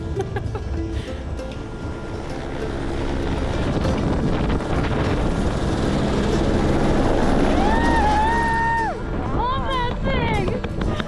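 A ski helicopter flying from an airport base up to the top of a steep mountain line, its rotor wash a loud steady roar mixed with wind buffeting the microphone, with a rising whine near the end.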